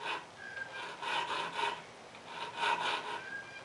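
A file rasps across the teeth of a cheap tenon saw, refining each tooth and removing burrs, in two close rhythmic bursts of back-and-forth strokes with brief pauses between.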